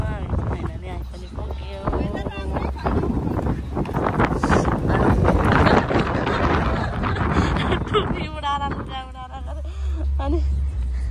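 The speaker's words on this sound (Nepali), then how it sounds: "ओ माइ गॉड हावा यस्तो दामी हावा।" Strong wind gusts and buffets loudly across the microphone at a pagoda site while people talk excitedly over the roar.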